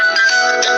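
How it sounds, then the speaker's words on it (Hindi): A mobile phone rings loudly and close by with a bright, steady electronic tone that holds for under a second, alone with no talk over it. "तो जी ये मेरा फ़ोन बीच बीच में आ रहा है,"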